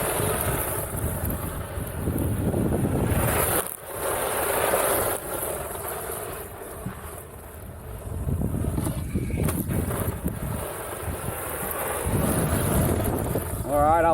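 A Haiboxing 2995 RC desert truck runs outdoors on a windy day. Its electric motor whirs and surges in uneven bursts under heavy wind buffeting on the microphone.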